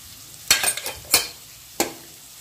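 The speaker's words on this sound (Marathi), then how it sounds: "एकच सेकंड मसाला भाजून द्यायचा" Spice masala of turmeric, chili powder, garam masala and coriander-cumin powder is roasted in hot oil in a pan for drumstick curry. A few sharp, close stirring scrapes sound over a faint sizzle, with no talking.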